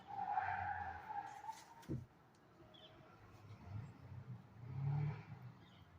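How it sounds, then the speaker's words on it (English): A truck slides out on a road outside, giving a skidding tire noise that swells and fades over several seconds, with a sharp thump midway amid continuous traffic rumble. "Truck just fucking slid out on the road."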